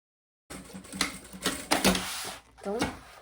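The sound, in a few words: sewing machine topstitching a zipper pencil case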